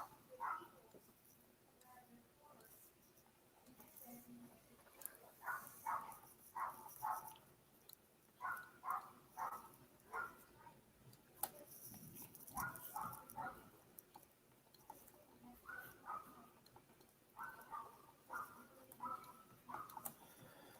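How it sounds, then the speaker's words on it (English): A small dog next door yaps in repeated bursts of sharp barks at moderate distance, clusters of quick yips separated by short pauses against a quiet indoor background. "I can just hear the neighbor's dog just yapping away"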